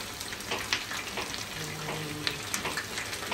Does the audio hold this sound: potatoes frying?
yes